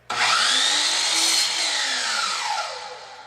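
A miter saw slices through wood for the handles of a five-frame nuc box, a loud, steady whining cut lasting about three seconds that slowly fades as the blade winds down.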